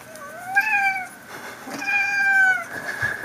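A domestic cat gives two drawn-out, rising and falling meows close by, the second longer and louder, with a brief quiet gap between and a faint thump at the end.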